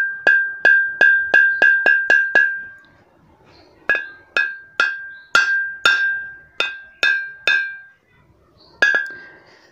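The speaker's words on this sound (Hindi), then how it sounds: "तो गाइस, तोड़ने के लिए एक हमने हथौड़ा ले लिया है।" A hammer strikes the thick glass of an old 1990s CRT television picture tube again and again. Each sharp, bright clink rings out and fades, in a fast run of about eight blows, a pause, another rhythmic series, then one final hit.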